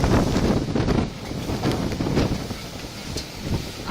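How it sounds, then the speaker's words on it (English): Violent gusts of very strong wind buffet the microphone, a loud roaring rumble that surges and eases in waves, strong enough to tear pieces off distant buildings. "the wind becomes so strong that it ends up ripping off parts of buildings in the distance"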